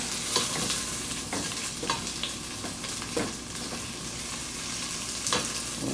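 Carrots sauté in a pot while a spoon keeps stirring them, giving a soft continuous sizzle broken by repeated scraping strokes, with no talking.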